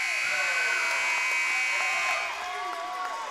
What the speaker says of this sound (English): And then at the buzzer